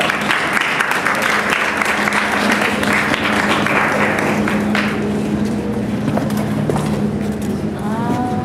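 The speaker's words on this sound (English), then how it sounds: "A round of applause, please." Audience applause at a poetry reading, brisk clapping that mixes with crowd murmur and speech, fading toward the end.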